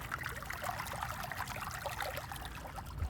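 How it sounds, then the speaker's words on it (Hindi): Faint water flows steadily near historic Altit Fort in Pakistan, surrounded by greenery and quiet. It makes a soft, continuous trickle and burble with no breaks, heard at a gentle distance with no talking. "ये पानी की हल्की सी आवाज़"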